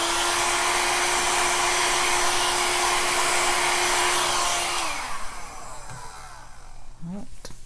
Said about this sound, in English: Okay, and I'm going to use my hair dryer just to blow it.